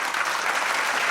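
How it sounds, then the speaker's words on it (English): Audience applause fills a short stretch of a film screening and thank-you event, steady dense clapping at even loudness with no pauses. "Get a special applause"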